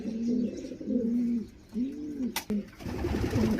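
Racing pigeons coo nearby in repeated soft, throaty phrases, one rolling call after another, followed by a short rustle near the end.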